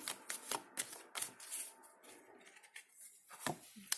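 Tarot cards being shuffled in several quick riffling bursts, crisp and close, with short pauses between them.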